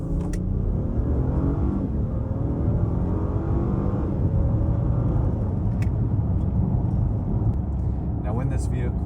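A 2025 Acura MDX Type S SUV on the road, its engine rumbling steadily with a low, continuous drone and shifting tones as it accelerates, road and wind noise underneath throughout.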